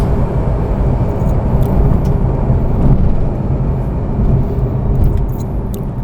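A Tesla Model 3 accelerates hard from a standstill, droning loudly and steadily, roaring under load with a continuous rumble and faint rattles on top, no voices.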